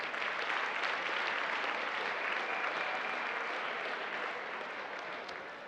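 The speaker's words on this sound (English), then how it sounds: "So give yourself a round of applause." Sustained crowd applause at a Mail & Guardian 200 Young South Africans awards event, a dense even wash of clapping that slowly fades toward the end.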